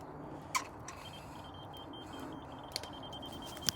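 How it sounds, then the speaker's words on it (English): A device used while laying a slabbed area gives a few short, sharp beeps spaced over several seconds, heard over a steady low outdoor background. "I need to, wait for the beeps."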